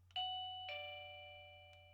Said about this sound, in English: You should hear it ring now.